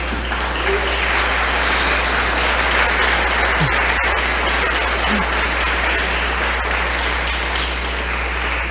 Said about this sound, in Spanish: Hazle un aplauso al Señor entonces, pues.